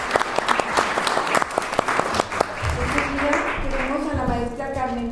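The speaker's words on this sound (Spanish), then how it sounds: "Un aplauso para el colectivo." An audience at a round-table panel discussion claps for a few seconds, sharp claps that thin out as a voice begins talking over the tail end.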